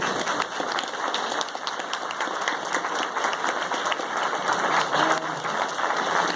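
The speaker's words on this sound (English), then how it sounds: "we have another round of applause for all of them" Sustained applause from an audience at an all-candidates debate meeting in Saanich, a dense, steady wash of many hands clapping throughout.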